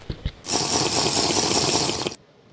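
Water running from a tap into a glass for a drink, a steady hissing stream lasting about two seconds that starts and cuts off abruptly, heard close and alone.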